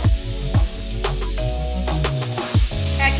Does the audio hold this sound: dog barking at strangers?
no